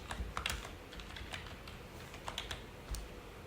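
Typing on a computer keyboard while entering a collection name in a Shopify store admin: quick, light keystrokes in small uneven bursts, close and fairly quiet, with no talking.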